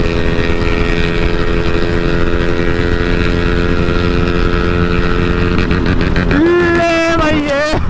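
A KTM Duke 200 and a Yamaha XSR 155 motorcycle drag race, their engines a loud, continuous drone that swells into rising revs near the end, with wind buffeting the microphone.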